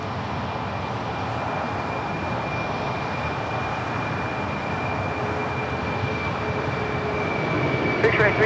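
Jet airliner rolling down runway 25 right at Los Angeles International Airport, a steady broad roar heard from a distance that swells slightly toward the end, with faint radio chatter underneath.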